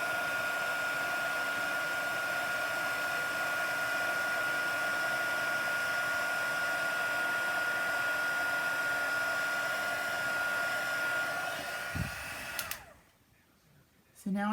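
A heat gun melting embossing powder blows with a loud, steady whooshing hum for about twelve seconds, then clicks off and falls quiet before a brief rustle.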